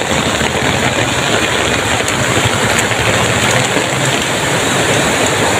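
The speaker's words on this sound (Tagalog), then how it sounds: "Sobrang lakas ng ulan." Heavy rain pours down steadily during a downpour strong enough to suspend classes, a loud, close, unbroken hiss of falling water with no break across the whole span.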